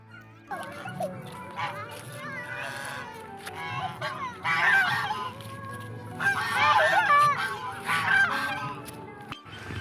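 Three large domestic geese honk in loud, close, irregular bursts that swell and fade, with people talking faintly in between.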